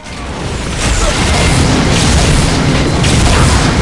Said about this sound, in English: the Impact Hammer is fired by either releasing the pressure or touching your target